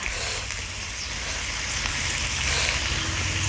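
Pork belly grills on a hot surface with a steady, close sizzle that holds at an even level throughout, with no voices.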